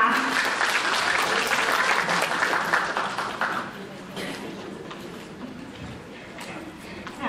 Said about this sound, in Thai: ขอเสียงปรบมือต้อนรับไดมอนด์